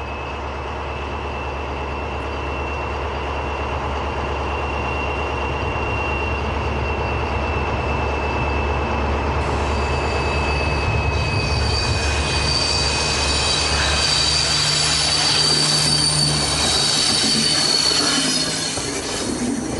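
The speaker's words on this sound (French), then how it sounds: "le convoi de sens pair aborde à son tour la zone de gare" A train on the Alpes line between Marseille and Grenoble rolls steadily into a station area with a loud continuous rumble, joined by a sustained high wheel squeal that swells in the second half and carries until the end.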